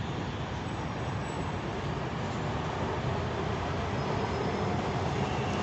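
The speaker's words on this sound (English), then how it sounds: "That SkyTrain that's zipping across right now" A SkyTrain zipping past, heard as a steady broad rushing roar that holds evenly throughout at moderate distance with no talk.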